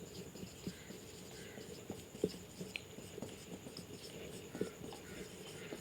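A pen writing out a definition by hand, heard as a soft, steady scratching with light taps as strokes begin, close and quiet over a faint background hum, with no talking.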